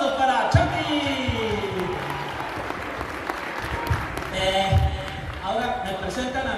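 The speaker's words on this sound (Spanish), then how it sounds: "Fuerte los aplausos para Chantillín" An audience applauds the clown Chantillín at a live show in Huajuapan de León, with sustained, dense clapping and scattered cheers while voices carry over the top.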